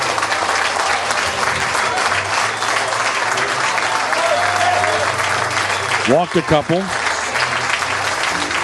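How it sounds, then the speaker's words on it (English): A crowd at an NJCAA South Central District Championship baseball game involving Maple Woods gives steady, full applause to a pitcher leaving the mound. The clapping is heard throughout under someone commentator's voice. "And Veit will leave to a nice round of applause"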